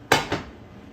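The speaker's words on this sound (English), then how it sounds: "Let me get that fork out of the way." Two quick bright clinks of a metal fork against a bowl of spaghetti squash carbonara, the first sharper and louder, the second softer, then quiet kitchen room tone.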